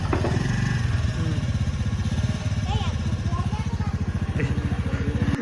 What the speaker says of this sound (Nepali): बाइक राख्न थालेछ केटाहरूले